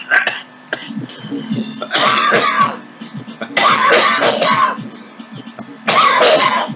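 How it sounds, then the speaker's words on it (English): A man with a cold, who smokes heavily, coughs and clears his throat in three harsh, close bursts. Quieter breathing and shuffling fill the gaps between them. "Sorry about my cough."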